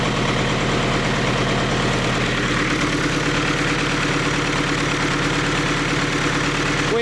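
Diesel engine of a Leyland 154 tractor running steadily at about 1200 RPM, an even, close, loud rhythmic chug with no talk.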